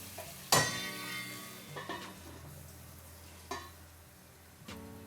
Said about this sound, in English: We're gonna stir this in.